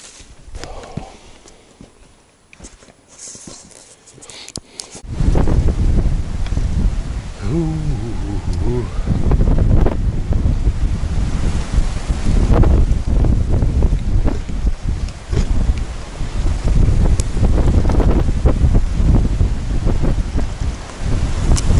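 Heavy gusting wind by a river roars against the microphone, loud and continuous after a quieter start, with buffeting rumbles and scattered knocks underneath.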